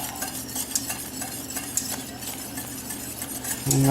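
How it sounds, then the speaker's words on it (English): Broth being whisked into a keto low-carb gravy in a pan as it comes to a big boil, with steady scraping strokes over a bubbling, sizzling bed that swells louder near the end. "whisking like this until it thickens up into a nice gravy"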